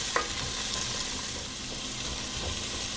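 Onions frying in oil for an Irish beef stew, a steady close hiss of sizzling with a light clatter as they are stirred, no voices.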